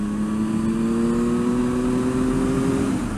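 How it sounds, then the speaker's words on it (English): A motorcycle engine revs at a steady high pitch, then drops slightly in tone near the end as it speeds by, loud and close with no talking. "Oh, the man riding the motorcycle."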